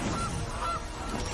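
Honking from the Gilded Goose card in a digital card game: a couple of short, nasal goose honks sound clearly over a steady background hum.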